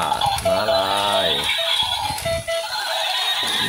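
A toy zebra gives a loud electronic whinny that rises and falls over a second, followed by tinny galloping clip-clop clatter from its speaker, close and continuous.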